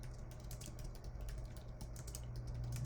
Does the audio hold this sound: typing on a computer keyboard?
yes